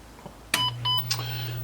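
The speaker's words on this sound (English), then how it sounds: "2 beeps, yay!" Two electronic boot beeps from a 39-year-old H/Z-89 computer during repair, each a short bright tone followed by a steady low hum from the machine.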